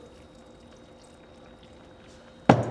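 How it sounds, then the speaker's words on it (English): Water is poured into a sausage casserole mixture of chopped thyme and other ingredients, coming as a sudden loud splashing gush right at the end after a quiet, low-humming kitchen. "add our water"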